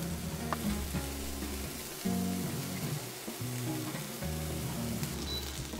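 Bacon fries in a pan over low heat, a steady crackling sizzle with faint pops, running alone without talk.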